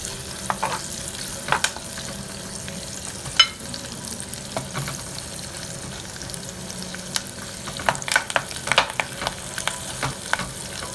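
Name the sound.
sliced red onion frying in coconut oil in clay pot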